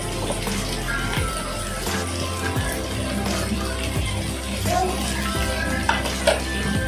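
Food being stirred in a pan, with scraping and clinking of a utensil against metal over a low background hum, irregular strokes repeating throughout with no voices.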